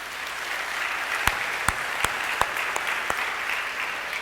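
A church congregation at a Sunday service claps together in a steady, dense wash of applause, with a few sharper individual claps standing out.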